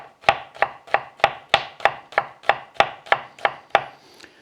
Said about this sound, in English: We're just gonna half it and then slice it very thinly.